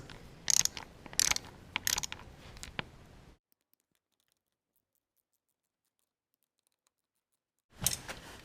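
A wrench ratchets in rapid clicking bursts while tightening the clutch cover bolts on a Yamaha Raptor 250 ATV. The bursts run for about three seconds, then a long silence, then a short final burst of clicks close up.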